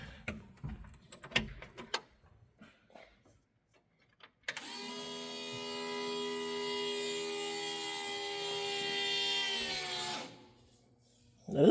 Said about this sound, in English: That is a pretty quiet fuel pump.